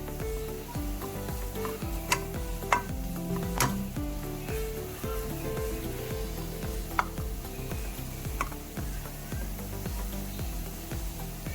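Half-cooked vegetables, cabbage among them, stir-fry in a pan for chicken noodles, a continuous sizzle with occasional sharp spatula knocks, under background music.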